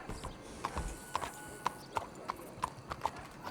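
Horse hooves clip-clop at a steady walk in Red Dead Redemption 2, about a dozen crisp, evenly spaced hoof strikes sounding close and fairly quiet.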